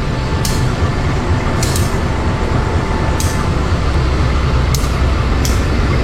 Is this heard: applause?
no